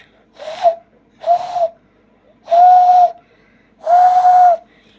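A person whistles with fingers in the mouth, giving four breathy whistle blasts. The first two are short, and the last two are louder, longer and held steady.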